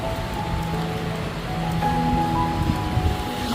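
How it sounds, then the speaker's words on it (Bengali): Rain falling outdoors in gusty wind strong enough to strip leaves from garden trees, a steady diffuse patter with soft wind noise continuing throughout, no voices. "তো বৃষ্টি হচ্ছে"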